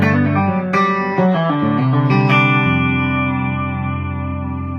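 Electric guitar on its bridge pickup, with a full, warm tone, plays a few notes and chords that ring out and sustain with a light effects wash, no talking.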